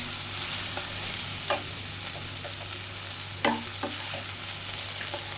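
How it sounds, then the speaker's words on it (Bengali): Chili powder and cumin powder fry in a kadai for a small-fish curry, making a soft, continuous sizzle with a handful of sharp spatula scrapes spaced irregularly through it. "মশলাটা ভালো করে আমি ভেজে নেবো"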